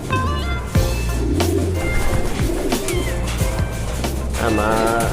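Racing pigeons coo in a loft's hen section, soft repeated calls mixed under steady talking voices and ongoing background noise.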